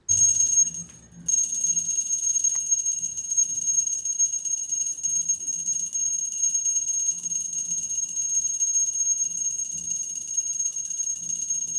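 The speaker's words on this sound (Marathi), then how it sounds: "त्यामुळे मी उशीरपर्यंत घंटी वाजवत होते" A small brass puja bell rung continuously at home during morning worship, a bright, sustained high-pitched ringing that runs steadily for over ten seconds with only a brief pause near the start, with faint background murmurs.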